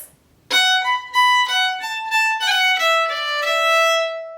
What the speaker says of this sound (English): We can also throw a mordent into the second phrase of the B part,